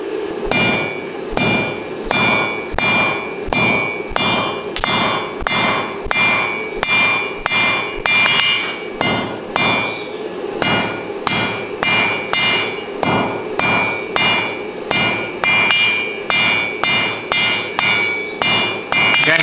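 A hammer beats a rebar taper for forging tongs in a steady, evenly spaced series of sharp metallic blows, each ringing briefly, loud and close with no talk.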